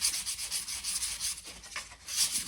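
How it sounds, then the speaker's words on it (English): 320-grit sandpaper rubs over primer in quick back-and-forth strokes, a close, soft, hissing scrape repeating at an even brisk rhythm for a few seconds with no voices. "I'm gonna take some 320 sandpaper and just smooth down"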